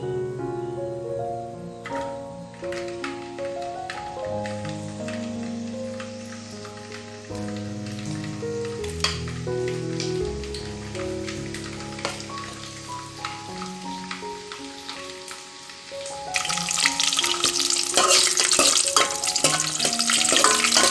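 Peeled garlic cloves fry in a pan. For most of the stretch a melodic music track dominates, and a loud, close sizzling hiss rises and takes over toward the end.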